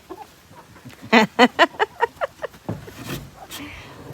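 Hens cluck in a quick run of short, rhythmic notes close by, then a few scattered clucks trail off under faint outdoor noise.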